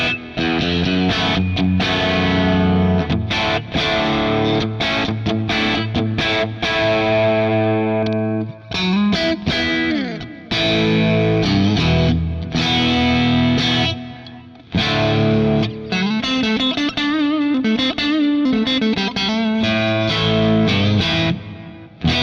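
A Fender Telecaster electric guitar with an ashtray bridge and steel saddles plays loud, sustained chords and runs through distortion and chorus effects, with a few brief pauses between phrases.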